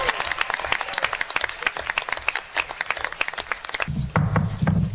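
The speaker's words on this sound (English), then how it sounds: "Let's give them one more round of applause." An audience at a meeting gives a round of applause, dense, close clapping from many hands that fades out near the end as a voice begins to speak.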